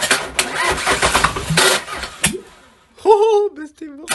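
A car engine, from a BMW 318 tds, cranks and fires up at close range amid loud noisy bursts, then settles into an idle with rising whine-like tones and revs toward the end.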